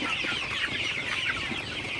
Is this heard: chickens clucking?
yes